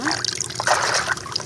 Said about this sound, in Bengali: এইভাবে ঝানিতে করে নেবেন ধোলাই করার সময়।